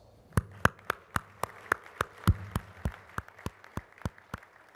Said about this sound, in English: this is a moment where you can give yourselves some well-deserved applause